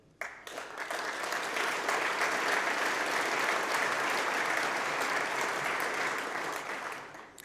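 Applause fills the hall at a general assembly of an economic advisory council, a dense, sustained clapping from a large audience that swells quickly, holds steady for several seconds, then fades.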